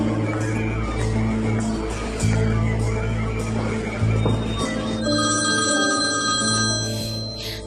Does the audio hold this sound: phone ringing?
yes